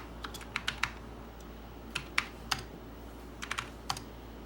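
Clicky keystrokes on a computer keyboard while programs are being written, coming in short irregular bursts of a few quick taps with brief pauses, close and fairly crisp over a steady low hum.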